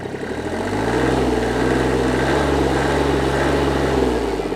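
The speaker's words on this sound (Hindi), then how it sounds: "इसका मैं आपको आरपीएम बढ़ाकर सुनाता हूँ।" Sonalika GT 22 three-cylinder mini tractor engine revving up to higher rpm, the close, loud drone rising in pitch within the first second, holding steady, then easing slightly near the end.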